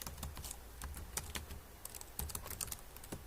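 Fingers tap out text on a computer keyboard, a quick irregular run of light, close clicks with short pauses between bursts and no voices.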